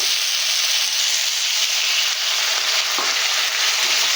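Fried pumpkin, ridge gourd and pointed gourd sauté in a pan with a splash of water, giving a loud, steady sizzle and hiss close up, with occasional soft stirring scrapes.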